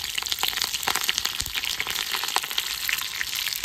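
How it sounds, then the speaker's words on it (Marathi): Cumin seeds, broken dried chillies and a pinch of asafoetida sizzle and crackle steadily in hot oil as a tadka for sorghum-flour idli chutney, with a loud, close, continuous hiss and scattered pops. "आपली आता कडकडीत तडका मारून घेऊ आता चटणीला."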